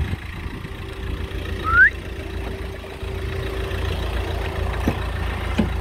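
A parked car's engine runs at idle in a hot village, a steady low rumble with a constant hum throughout, plus a brief chirp partway through and no talk.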